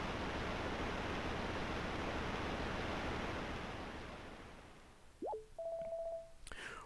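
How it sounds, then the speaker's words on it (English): Water drains away in the Nintendo DS game Dragon Quest 6, a loud rushing wash of noise that slowly fades out, followed by short electronic chirps and tones. "Whoa, the water, it's drained."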